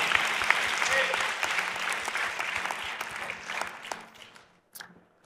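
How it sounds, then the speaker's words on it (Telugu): Congregation in a Telugu church sermon claps together after a call to praise God, loud rhythmic clapping with many hands that thins out and fades toward the end, a few voices mixed in. "దేవునికి ఒకసారి గట్టిగా చప్పట్లు కొడదాం"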